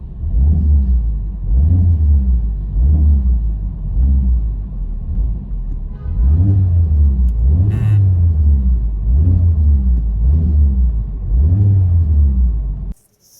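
A Mercedes-AMG A35 engine runs steadily with a loud, low rumble that pulses regularly throughout, then cuts off abruptly at the end.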